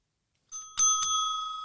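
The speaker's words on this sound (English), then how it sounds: "Can you hear that? There's a bell." A small bell rings out clearly with bright sustained metallic tones, struck twice in quick succession over an otherwise quiet background, the ring lingering and slowly fading.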